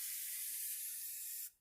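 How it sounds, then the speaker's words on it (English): A single steady hiss of spray paint lasts about a second and a half, then stops abruptly. "take a plastic bag and your spray paint, spray a little bit"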